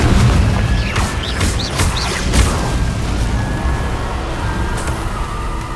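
Confringo fire spells go off in Hogwarts Legacy as a run of booming bursts with short whooshing streaks, loudest early on and then tapering into quieter rumbling game ambience.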